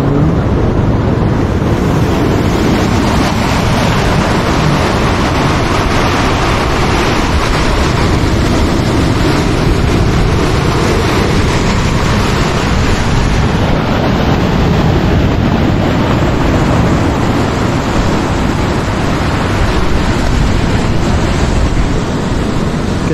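Sea waves breaking on a seaside beach in Croatia in winter, a loud, continuous roar of surf mixed with strong wind buffeting the microphone, with no pauses throughout.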